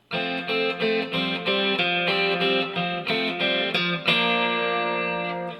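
A distorted electric guitar plays a rhythmic chord pattern from a song with repeated strums, ending on a sustained ringing chord.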